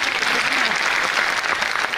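A rally crowd claps and cheers in a dense, continuous wash, fairly loud and close, with voices blending into the noise.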